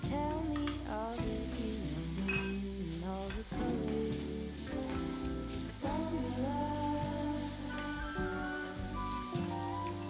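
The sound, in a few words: boiled amla being stirred in oil with spices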